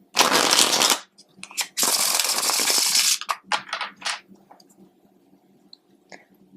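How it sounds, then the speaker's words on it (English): Art Oracles oracle card deck being shuffled close up, two long riffling bursts followed by several short taps and flicks of cards settling, then near quiet. "that one last shuffle"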